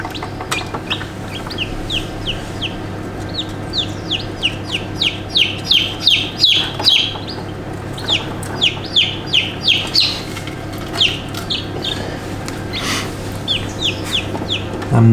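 A fluffy Wyandotte bantam chick peeps in quick, high chirps that come in bursts over a steady low background hum.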